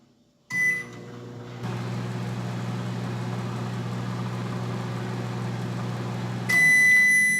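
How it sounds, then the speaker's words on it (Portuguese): A microwave oven hums steadily while heating a mug pudding, a low droning whir running for several seconds, bracketed by a sharp tonal beep at the start and another as it finishes. "Agora eu vou colocar mais 3 vezes aqui no micro-ondas."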